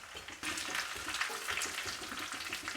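Shallots, curry leaves and dried red chilies fry in hot oil for a pumpkin curry, a steady close crackling sizzle with soft stirring, no voices.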